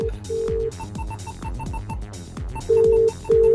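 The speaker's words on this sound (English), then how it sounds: "Hey Siri, call little Lewis" Phone call ringing tones played through a double-DIN car stereo's hands-free system inside a van, repeating loud beeping ring pulses with short gaps, alone without talk.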